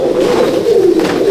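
Andhra and Madrasi pigeons coo loudly and continuously at a pigeon loft, a close, warbling throaty call with no voices over it.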